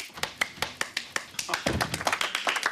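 A small group at a book club gathering claps in scattered, crisp hand strikes that start sparse and build into a quicker, denser patter, close by, with no talk over it.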